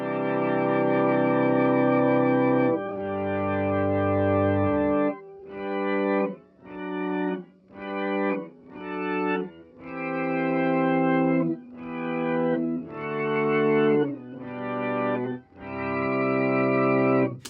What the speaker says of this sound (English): The thing I use it for is kind of this auto swell with upper octave,